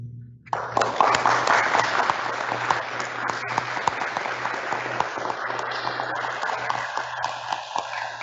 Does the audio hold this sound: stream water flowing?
no